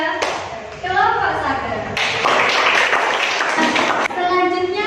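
Students in a classroom clap for a presenting group, a burst of many hands applauding through the middle of the moment, with children's voices chattering before and around it.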